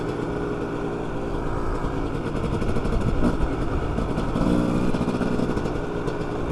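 Dirt bike engine running while riding, a steady loud motor drone held throughout with a slight swell in the second half, close to the microphone and with no talking.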